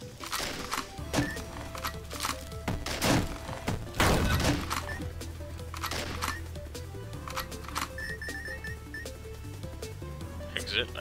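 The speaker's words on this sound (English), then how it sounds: "I just break stuff when I jump." In the video game Dungreed, objects shatter as the character jumps, giving repeated thunks, thuds and cracks at an uneven pace, mixed with game music and a person talking throughout.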